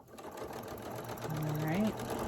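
A sewing machine stitches a pumpkin patch table runner in a short quiet burst of rapid mechanical whirring, rising slightly in pitch and loudness toward the end.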